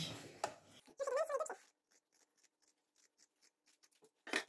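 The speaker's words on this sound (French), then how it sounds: "je préfère recouper ma couture à quelques millimètres" Scissors trim the seam of a three-layer fabric protective mask, with a series of small, crisp snips close by after a brief opening rustle, fairly faint.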